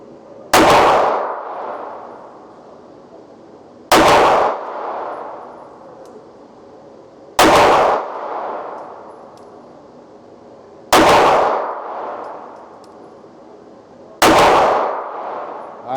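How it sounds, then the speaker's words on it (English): An HK P30SK LEM pistol fires five evenly spaced shots at steel targets outdoors, each loud crack followed by a ringing metallic clang that decays over a few seconds. "let's do some shooting and see what we think"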